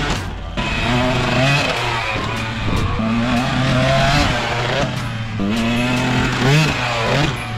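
Motorcycle engine, a new bike being ridden toward a large lake, revving steadily with rising and falling pitch throughout, loud and close, with voices talking over it.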